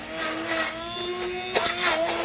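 An immersion stick blender whirs steadily while pureeing soft pot roast vegetables in sauce, a continuous motor hum with a brief surge near the end as the blade churns, no voices over it.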